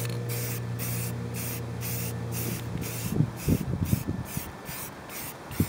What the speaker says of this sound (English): when you're spray painting, it's important to do a nice, even coat.